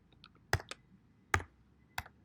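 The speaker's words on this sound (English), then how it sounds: "I typed in" Typing on a computer keyboard, a few sharp isolated key clicks spaced irregularly, close and clear against a quiet room.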